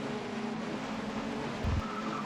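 A touring race car in the ToCA World Touring Cars video game spins its wheels on the grid at the start, a continuous revving engine drone with tyre noise and a brief thump near the end.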